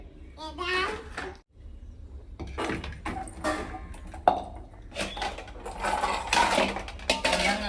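Steel utensils clank and scrape as dishes are scrubbed and washed, intermittent metallic knocks close by, mixed with a voice and adult chatter throughout.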